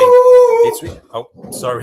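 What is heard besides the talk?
dog barking in the background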